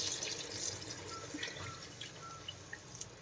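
Water pours into a pot of rice for vegetable brinji, a faint, continuous splashing trickle with small drips, heard alone and fairly quiet.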